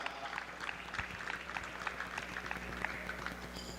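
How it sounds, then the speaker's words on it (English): Crowd applause at a TTCB T20 Champions Clash cricket final ceremony in Trinidad, a steady wash of clapping from a gathered audience with some murmuring voices underneath, moderately distant and continuous. "a massive round of applause for that."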